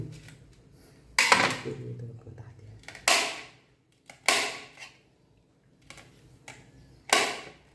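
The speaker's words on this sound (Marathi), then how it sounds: "आपण याचे छोटे छोटे तुकडे करून घेऊ" Green chillies being chopped into small pieces on a board, a handful of sharp, separate knife strikes spaced about a second apart, close and clear with quiet gaps between.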